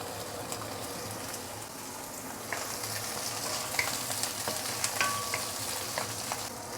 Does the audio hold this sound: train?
no